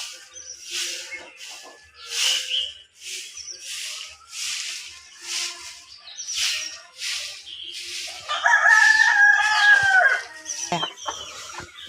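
A backyard flock of chickens, including black Kadaknath birds, clucks and squawks in repeated bursts, and a louder, drawn-out rooster-like call rises near the end, with no one talking.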